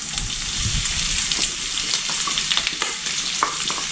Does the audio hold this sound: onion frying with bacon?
yes